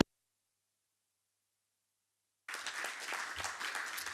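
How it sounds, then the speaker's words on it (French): Applause bursts in after a long stretch of silence, a dense, steady wash of clapping from a crowd that continues to the end. "Je voudrais demander d'autres applaudissements encore"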